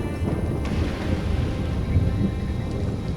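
Thunderstorm with rain in the game Stranded: Alien Dawn, a steady dense rumble and wash of rainfall with low thunder-like swells throughout.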